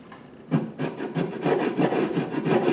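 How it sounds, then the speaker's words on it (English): A ground-down file end scrapes wood at the bottom of a hacksaw-cut groove on a Harmony H162 guitar, a series of close, dry rasping strokes in a steady back-and-forth rhythm, alone with no talk. "scraping, basically, and cleaning up the bottom, because there may be different grooves from the hacksaw blade."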